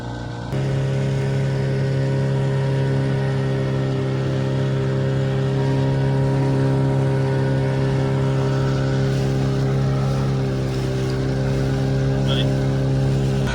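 A motorboat crosses past on water by a mangrove forest near a fishing harbour: a steady droning engine hum with sustained tonal harmonics, loud and constant throughout, with a voice talking over it.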